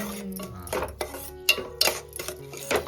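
Rice being stir-fried in ghee in a pan in a village kitchen, with a spoon scraping and clinking against the metal in irregular strokes over a soft sizzle.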